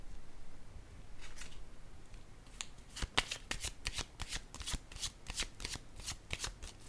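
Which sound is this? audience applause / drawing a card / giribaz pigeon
drawing a card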